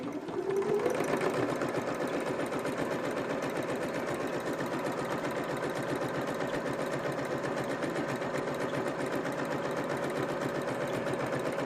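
A sewing machine runs steadily and close up for the whole stretch, stitching the card slots of a leather wallet at a quarter-inch seam, a continuous dense mechanical whir with no pauses.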